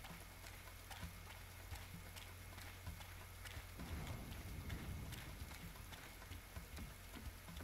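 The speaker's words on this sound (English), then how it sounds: "Of course, it's raining." Faint, steady rainfall in the role-playing game Atelier Lydie & Suelle, a quiet hiss scattered with small ticks that thickens slightly toward the middle, with no speech.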